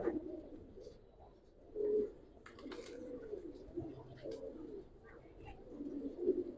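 Giribaz pigeons coo softly and repeatedly in a loft, with low rolling calls that overlap at a moderate distance. A faint voice and small background noises run beneath them.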